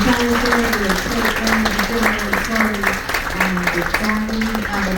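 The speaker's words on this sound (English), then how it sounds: "let's give a round of applause for our production" Audience applause on a cruise ship after the onboard production show, dense steady clapping filling the whole stretch with voices talking over it throughout.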